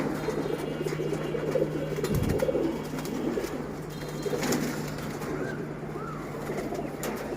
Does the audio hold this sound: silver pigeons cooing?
yes